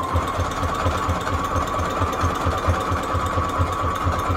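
A sewing machine runs steadily while stitching spines for an altered book junk journal, a rapid even mechanical thump with a constant motor whine, close and alone with no talk.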